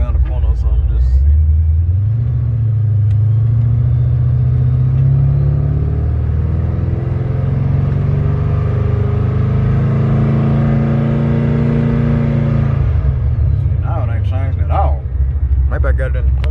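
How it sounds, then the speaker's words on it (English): A car being driven for a short trip around the corner: its engine rumbles low, then revs up in a long rising and falling whine before dropping back to a steady idle, loud and close. "I ain't gonna drive it long, I ain't gonna drive it far."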